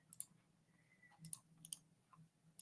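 Faint, quick clicks from a computer mouse while copying and pasting, scattered in small clusters over a quiet room hum.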